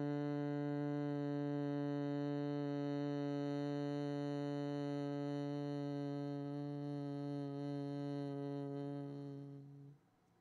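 A steady, nasal hum on one sustained pitch imitates a buzzing bee during Bhramari pranayama breathing in a hatha yoga class, exhaled with the ears closed by the thumbs; it holds evenly for about ten seconds, then fades out.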